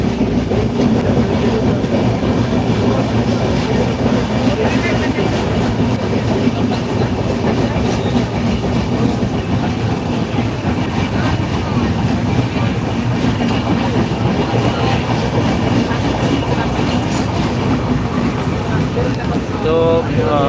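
A night train from Thakurgaon to Natore, Bangladesh, rolls steadily along the tracks with a continuous rumble and rhythmic clatter of wheels, loud and close throughout, with faint voices in the background.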